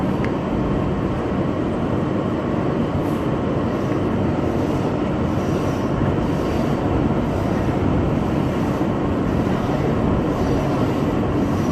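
Steady, loud rumble and roar of a Bombardier R62A subway shuttle train riding between Grand Central and Times Square, continuous throughout with no talk.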